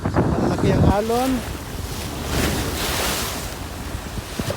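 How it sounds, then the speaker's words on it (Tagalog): Big ocean waves rolling near a shore by a turtle sanctuary, a continuous loud wash of surf mixed with wind buffeting the microphone, and a brief voice at the start. "Malaki ang alon."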